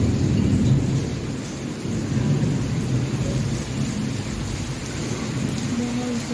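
Heavy thunder rumbles through a rainstorm, with steady rain drumming on surfaces close by. The deep rolling booms swell and ease over a constant wash of falling rain, and no one speaks.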